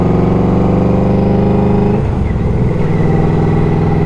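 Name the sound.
Yamaha Royal Star Venture V4 motorcycle engine accelerating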